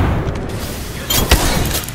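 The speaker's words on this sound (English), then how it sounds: "Throw my grenade out." A grenade blast in the Apex Legends battle royale, a loud booming explosion with a sharp burst near the middle over dense, continuous gunfire-heavy game noise.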